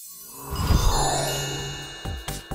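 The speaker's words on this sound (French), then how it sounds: "Un seul mot et aussitôt, la cloche sonne." Magic bell chime ringing out in a Halloween spell, a bright tinkling jingle that swells, lingers and fades, followed by a few short clinks near the end.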